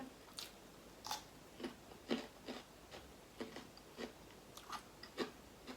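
Someone chews fried pork eaten with fish sauce, giving a steady series of soft, crisp crunching bites at close range, quiet and regular, with no talk.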